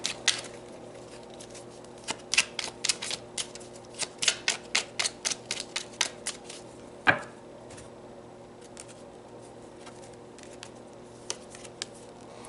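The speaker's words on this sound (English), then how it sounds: "let's pull another card." Tarot cards being shuffled and handled indoors: a quick series of soft riffling snaps and taps, close and fairly quiet, followed by a single louder card flick and then near silence.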